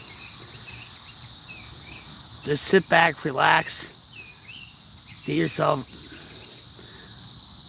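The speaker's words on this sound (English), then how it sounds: "Listen to the crickets." Crickets chirp steadily outdoors in a calm, peaceful setting, a continuous high insect trill running throughout while someone speaks briefly over it.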